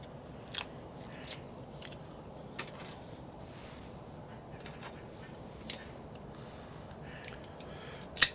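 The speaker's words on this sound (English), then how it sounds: "let me go ahead and take this foot band off and clip it" Drew Estate Blackened M81 Robusto cigar being clipped, a few sharp, quiet snips spread across a near-silent background, the last one loudest.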